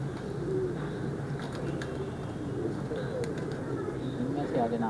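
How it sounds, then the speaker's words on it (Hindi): A pigeon coos softly under ongoing background noise and people talking, its low repeated calls steady but not prominent. "बहुत ही नफीस कबूतर है माशाल्लाह।"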